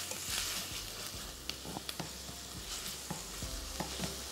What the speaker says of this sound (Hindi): कीमे को खूब अच्छी तरीके से भूनना है